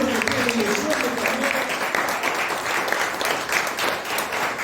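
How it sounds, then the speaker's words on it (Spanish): A church congregation gives sustained applause, a dense steady wash of clapping from many hands that lasts the whole stretch, with voices calling out over it. "Denle un aplauso al Señor"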